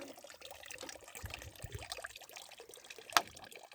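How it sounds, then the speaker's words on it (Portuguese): Pond water pours and trickles into a metal cake pan from close by, a steady splashing stream with one sharper clink partway through. "Eu vou encher ela d'água."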